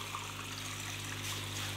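Water trickles and bubbles steadily into a garden pond after the water was limed, a continuous close splashing gurgle with no voices.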